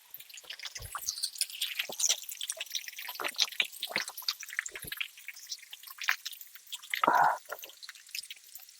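Water drips irregularly at the Adilakshmi Jaladhara, a temple spring at the Malluru Narasimha Swamy temple in Mulugu, Telangana, with scattered close plops and trickles across the whole stretch and a brief louder splash near the end.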